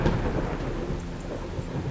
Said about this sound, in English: The night was one of impenetrable darkness, with rain pouring down in torrents.